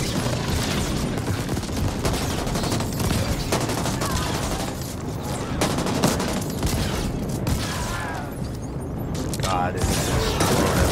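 Rapid gunfire from a weapon in the co-op shooter game The Ascent, dense bursts and booms firing almost continuously, with a player talking over the shooting.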